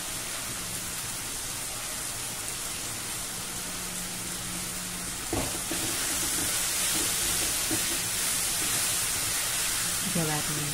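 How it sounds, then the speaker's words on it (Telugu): Tomato pieces frying in a pan for a bandakaya curry give a constant rain-like sizzle, with a few faint clinks and scrapes partway through, while a voice speaks over it. "ఇవన్నీ టమాటా ముక్కలు అన్నీ వేగుతాయండి వాటిలో."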